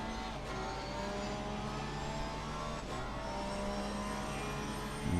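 Porsche and Aston Martin race cars at Brands Hatch in Assetto Corsa Competizione drone with a continuous engine roar, steady and fairly loud, the pitch holding almost constant, with no talk.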